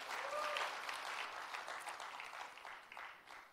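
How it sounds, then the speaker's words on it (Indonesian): A church congregation at GBI Intercon applauds its worship team with steady, moderately distant clapping that gradually thins and fades, with a faint voice briefly audible near the start. "Kita beri tepuk tangan bagi tim WL yang luar biasa"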